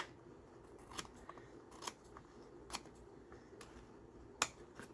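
Scissors trim paper for a four-panel folio, giving a few quiet, sharp snips spaced about a second apart over a soft background hiss.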